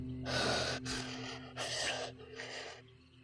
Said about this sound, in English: Ragged breathing.